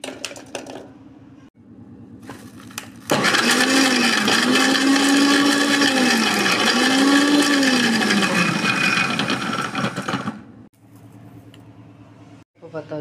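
A mixer grinder jar whirs loudly for about seven seconds as it grinds peeled ginger and garlic, its pitch wavering as the blades work, with quieter kitchen sounds before and after.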